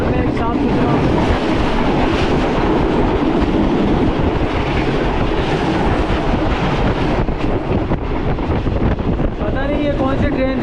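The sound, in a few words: train passing by on Lahore Green Line journey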